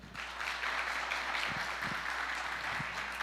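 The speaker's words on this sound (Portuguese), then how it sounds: "Palmas, por favor." Steady, fairly faint applause from an audience welcoming a guest speaker at an April autism awareness event, continuous clapping for a few seconds.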